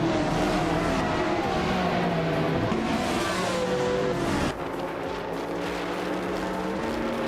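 Race cars in a video game accelerate off the start line, the pack led by a 2019 Chevrolet Corvette C7R, with engines revving and rising in pitch, then a gear change drops the tone partway through. No voices are heard.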